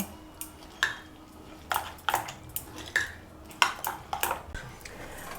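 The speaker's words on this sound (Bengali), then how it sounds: "এবারে এটা আমরা চামচের সাহায্যে ভালোভাবে মিশিয়ে নেব।" A spoon mixes egg and milk in a bowl, giving irregular clinks and taps against the bowl's side, fairly faint and close, with short gaps between strokes and no talk.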